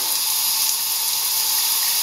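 Steady broadband hiss of shower water running while Dixie the dog is bathed, a continuous close spray with no breaks.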